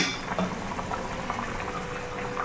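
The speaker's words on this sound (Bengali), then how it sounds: "ফুটিয়ে নিয়ে টকবক করে ফুটে এসছে, আলুও সিদ্ধ হয়ে গেছে।" Water with potatoes at a vigorous rolling boil in a pot, a continuous close bubbling and burbling with small pops, steady and moderately loud, with no talking.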